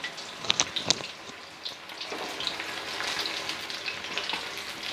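Chicken pakora frying in oil on a gas stove at medium heat, with a steady close sizzle and a few sharp crackles and pops early on.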